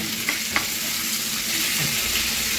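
Pieces of fish fry in a pan (kadai) with raw spices, giving a steady close sizzle with faint scraping stirs and occasional small clinks throughout.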